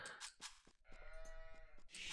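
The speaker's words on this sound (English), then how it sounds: "There's your sheep." Sheep bleat in an Age of Empires game, several short, faint bleats in a quick series, heard alone without talk.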